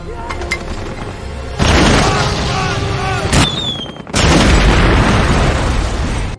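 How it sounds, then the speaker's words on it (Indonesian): Film firefight between Marines and Taliban fighters: dense gunfire with loud explosion booms, a sudden heavy burst around mid-clip and another after a brief lull, dominating throughout. "baku tembak yang sangat mencekam"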